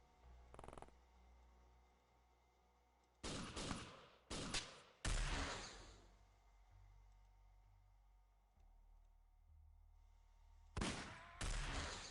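Muffled gunfire from agents blind firing into the dark in The Xcom Files, arriving in several short bursts separated by quiet stretches, with a low background hum throughout.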